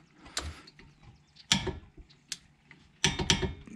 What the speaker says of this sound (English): we'll get these torqued to 53 foot-pounds